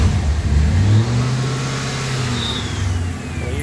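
A car engine runs loudly close by, revving briefly at first and then settling into a steady rumbling idle.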